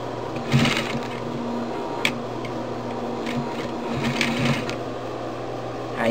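Sewing machine whirring steadily while stitching fabric for a quilted phone case, a continuous mechanical hum with a few light clicks and taps over it.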